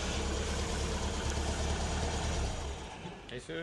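An off-road car engine revving hard while stuck spinning in place, a loud, sustained low roar with vibration that drops and sputters near the end.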